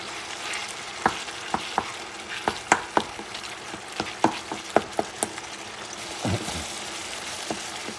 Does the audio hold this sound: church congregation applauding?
no